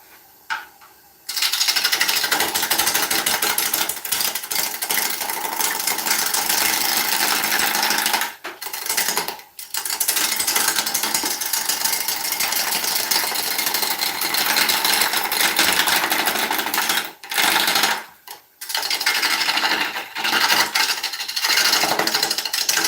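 A beech bowl spins on a wood lathe at around 490 rpm, the gouge giving a steady, close, scraping rasp that cuts out briefly a few times before resuming.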